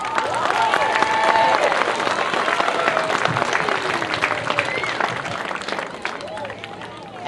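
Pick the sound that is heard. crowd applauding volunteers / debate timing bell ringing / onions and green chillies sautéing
crowd applauding volunteers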